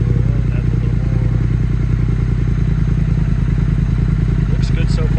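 A motorcycle engine idles steadily after an ECU tune, a loud, close, even putter running throughout with a faint clatter near the end.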